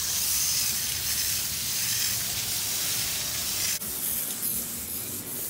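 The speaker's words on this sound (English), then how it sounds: "I'm gonna spray it off away from the fence." A steady, loud hiss of water spraying hard onto a table outdoors, continuous and close, with a brief dip near the end.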